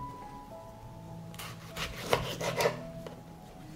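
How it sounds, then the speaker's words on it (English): A knife slices washed tomatoes into rounds, giving a few soft, quiet cuts and rubbing scrapes clustered together against a faint room hum, with no voices. "I will clean the tomato from the center and cut it into slices."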